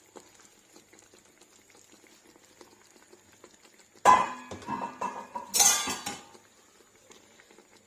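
Italian-style hake stews in a covered pot on a stove, heard first as a quiet, faint simmer, then as two short, loud bursts of metal clatter from the pot and lid.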